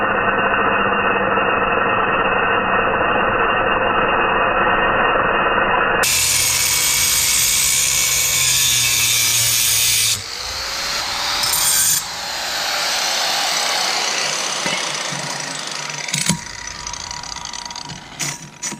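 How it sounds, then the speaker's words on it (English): Power tool cutting through the factory hand brake bars of a Nissan 350z, a loud continuous grinding whine that keeps going, shifts in pitch, and breaks off briefly near the end. "Now I'm gonna try and attempt to cut these bars off right here and possibly right here."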